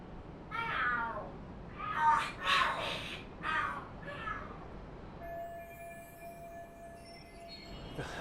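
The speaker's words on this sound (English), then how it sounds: "Are there cats fighting?" Cats in the Lost Judgment game yowl and scream in a fight, several sharp, loud cries in quick succession before they fade into a quieter background hum.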